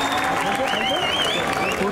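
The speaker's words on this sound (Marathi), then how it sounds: "त्याच्यासाठी जोरदार टाळ्या" A crowd claps loudly and steadily at an outdoor Dahi Handi festival in Kankavli, with a voice and wavering tones running over the applause throughout.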